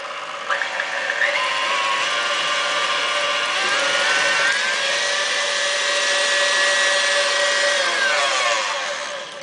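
An electric mixer whips egg whites to stiff peaks for a vanilla chiffon cake, giving a steady, close motor whir that runs unbroken for about nine seconds with no talking.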